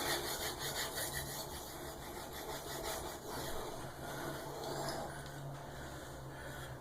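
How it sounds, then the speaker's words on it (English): A knife blade rasps steadily across a sharpening stone in freehand strokes, a continuous close gritty scraping with faint repeated pulses and no voices. "I'll sharpen up over here. Then I'll move down to the middle of the stone."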